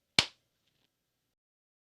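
A single sharp hand clap rings out close and alone, made to line up sound and picture, then fades quickly into near silence with a faint click or two afterward.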